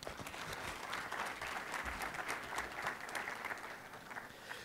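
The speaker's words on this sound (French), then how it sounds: "On peut les applaudir" Church audience applauding, a steady wash of many hands clapping at a distance, faint and continuous with no talk.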